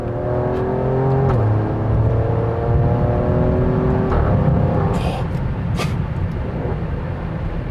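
A 2020 Alfa Romeo Stelvio Quadrifoglio facelift SUV accelerates hard, its engine rising loud and close through the gears, with sharp exhaust pops and crackles bursting out near the end.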